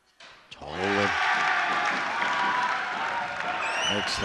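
A school crowd at a boys' high school basketball game erupts in sustained cheering and applause after a free throw, the roar swelling quickly and holding loud in a gym, with a brief voice at the start and end.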